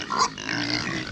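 Farm pigs grunt and oink close by at feeding time, a couple of short snorting calls over a low barnyard murmur.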